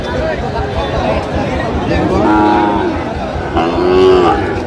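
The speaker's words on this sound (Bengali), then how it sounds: "আচ্ছা গুরুগুলো দেখেন তো একটু" Sahiwal bulls and calves at a livestock market in Chattogram, with two drawn-out moos rising over constant crowd chatter and nearby talking.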